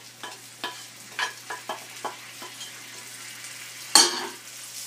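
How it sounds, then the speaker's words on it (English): Cool vegetables, fried up for mashed eggs, sizzle steadily in a hot pan, with a string of scraping stirs and clatters of a utensil and one louder clack near the end. "Now I'm going to go ahead and put my vegetables, which are a little cooler,"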